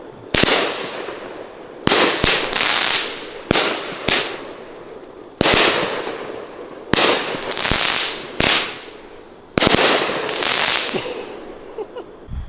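A T-Rex firework cake by Pyro Diablo fires a rapid series of loud cracking bursts, about eight volleys with crackling tails and short gaps between, at a Fourth of July show.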